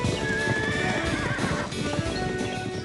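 A horse whinnies in a high, wavering neigh over a dense, busy background, with hoof clip-clops mixed in throughout.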